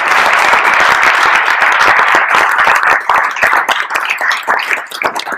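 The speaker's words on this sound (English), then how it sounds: "can we give a round of applause for our" Audience applause after a UX conference talk: dense, close clapping from a room of many hands, loud at first and then thinning out and fading over several seconds, with no voices.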